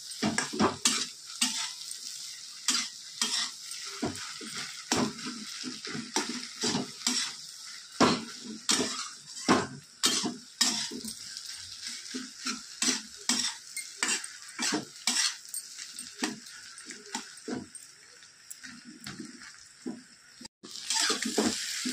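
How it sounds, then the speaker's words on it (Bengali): Fish roe, potato and eggplant frying in a pan, soft continuous sizzling under repeated scraping and clinking strokes of a spoon stirring at an uneven rhythm, close and fairly quiet. "এভাবে ভালো করে ভেজে নিতে হবে"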